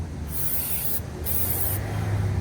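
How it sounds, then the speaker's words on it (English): Brake cleaner hisses from an aerosol can onto a new brake rotor of a 2007–2016 Buick Enclave in two bursts, the first long and the second shorter after a brief pause, close and sharp. "take some brake cleaner and you're going to spray down this rotor to get all that shipping grease off of it"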